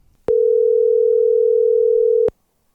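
A telephone line gives a steady, loud single tone for about two seconds while a call is being placed. It cuts off cleanly with no talk over it.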